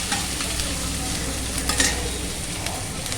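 Onion pieces and curry leaves sizzle in hot oil for a curry, a loud, steady, close crackling hiss with light stirring throughout and no talking.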